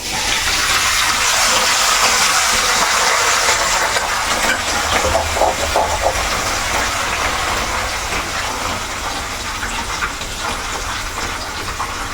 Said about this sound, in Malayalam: ഇനി കറിവേപ്പില ഇടാം.